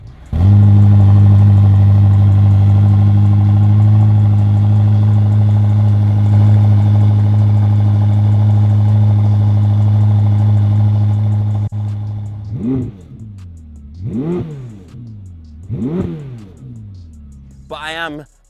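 Ferrari SF90 supercar engine idling with a steady loud drone for about twelve seconds, then three sharp revs rising and falling close by, with a final short blip.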